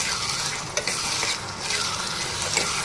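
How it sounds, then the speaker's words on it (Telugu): Washed mutton keema tipped into an oiled frying pan and stirred, giving a loud, continuous sizzle with spatula scrapes and light clinks against the pan, close up and without talking. "కడిగి పెట్టుకున్న కీమా దీనిలో వేసేద్దాం. ఇది మంచిగా కలపాలి."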